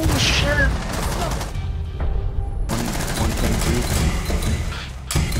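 Dense bursts of rapid gunfire and booming shots fill a Rainbow Six Siege firefight, loud and close, breaking off briefly before resuming, with voices talking over parts of it.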